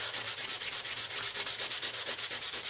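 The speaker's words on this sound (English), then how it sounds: "another quick sand back" Rhythmic back-and-forth sanding over a painted, Glimmer Mist–sprayed surface on a clock craft project, steady close strokes repeating about every fifth of a second with no talking.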